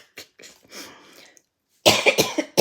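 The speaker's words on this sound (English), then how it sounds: "Get rid of this nagging cough." A nagging cough: a quiet, scattered stretch of soft sounds, then a loud close burst of several rough coughs in quick succession.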